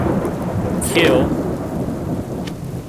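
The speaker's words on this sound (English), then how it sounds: "Man, it never stops raining, does it?" Steady heavy rain with a low rolling rumble of thunder in the Subsistence survival video game, loud and continuous; a voice briefly speaks over it.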